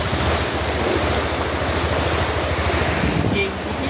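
A motorbike ride through waterlogged streets in heavy rain in South Kolkata, filled with a steady, loud rush of wind and water noise that eases slightly near the end.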